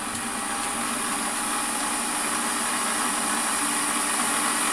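A Warco WM180 lathe machines the other end of a small part, giving a steady, dense whirring and hissing cutting noise that holds at an even level throughout, close by, with no speech.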